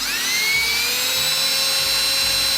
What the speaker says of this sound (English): I'm fairly cavalier about the way I drill holes in brass.